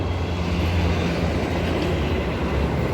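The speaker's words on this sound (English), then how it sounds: "EMU 104 and 52 departing platform number 1 for a Perth service." An EMU electric train pulls out from the platform at Murdoch station in Perth, a steady loud rumble of wheels and motors close by, with no voices.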